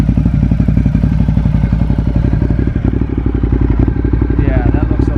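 Ducati Diavel motorcycle running with a Termignoni race exhaust, a loud, deep, rapid-pulsing engine rumble that stays steady close by, with voices talking over it.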